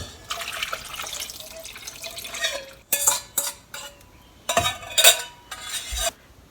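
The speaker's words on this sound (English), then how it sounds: "Then pour the sauce in the pot." Sauce poured over pumpkin pieces set skin side down in a cooking pot, heard as intermittent liquid splashes and bursts with clinks of utensils, close and moderately loud with short pauses between pours; no talking.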